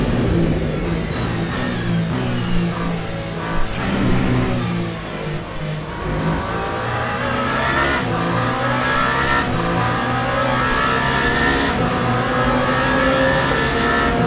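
Race car engines roar in a virtual 24 Hours of Le Mans in Le Mans Ultimate, with loud sustained revving and gear changes plus rising and falling pitch as cars accelerate out of a chicane, continuous for the whole stretch.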